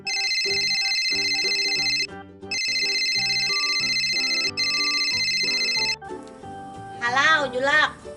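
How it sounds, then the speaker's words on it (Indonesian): A telephone ringtone plays loud and close as a repeating electronic melody, with a short break near the two-second mark, then gives way to other tonal sounds. "Telepon aja dulu Nala."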